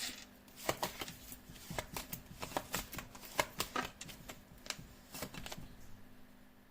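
Close, quiet riffle-and-snap shuffling of a deck of tarot cards, a run of quick dry clicks and flutters that goes on for several seconds, with no talk.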